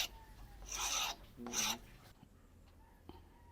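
Hand file rasping a bronze knife fitting at a Laguna blacksmith forge, two short close bursts of scraping strokes separated by a pause, then quiet room tone.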